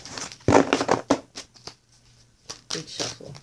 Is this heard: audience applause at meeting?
no